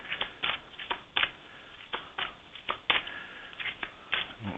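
A deck of tarot cards being shuffled, a quick run of sharp riffling flutters and snaps repeating in close bursts, with no talking.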